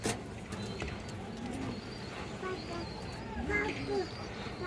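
Pigeons coo softly in the background at a pigeon sale, low repeated calls mixed with faint chirps while someone talks close by.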